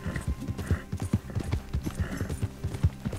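Rhythmic clip-clop of horse hooves trotting at a steady pace in the video game Red Dead Redemption 2, close and clear, with no talking.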